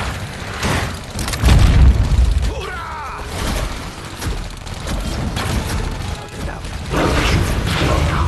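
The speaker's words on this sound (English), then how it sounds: "Grenade!" A grenade explodes in the strategy game Iron Marines with a deep boom amid mechanical clanks and creaks, followed by more battle rumbles and a second thump near the end.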